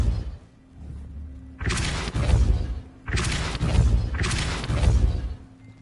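In the video game Hogwarts Legacy, the Depulso spell is cast repeatedly, with loud bursts of whooshing, rumbling force coming in three heavy waves separated by brief lulls.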